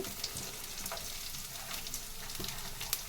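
Thinly sliced carrots and curry leaves frying in a pan for millet rava khichdi, a soft continuous sizzle with faint crackles and the odd stir, heard alone.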